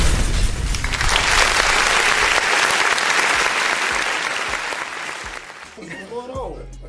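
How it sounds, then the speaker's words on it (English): A burst of crowd applause and cheering at a podcast taping, loud at first and slowly thinning, ending as a voice begins to speak. "It's applause coming with this too."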